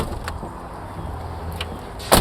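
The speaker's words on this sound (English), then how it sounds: "Let me pop the hood." Hood of a 1992 GMC Typhoon being released, with a couple of short mechanical clicks followed by a louder latch clunk at the end, nearby and with no voices.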